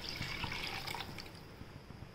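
Water from a mixer jar is poured into a pot of potato gravy bhaji, a faint, soft splashing and trickling that runs steadily for about two seconds.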